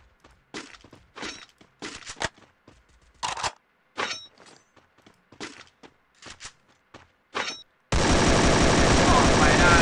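Gunfire in the Free Fire battle royale game during a competitive scrim match, heard as bursts of automatic shots through the first eight seconds, then a dense continuous roar of sound to the end.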